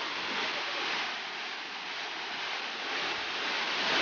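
The Argyle Waterfalls in Tobago roar steadily as rushing water pours down nearby, a dense, continuous wash of noise with no pauses.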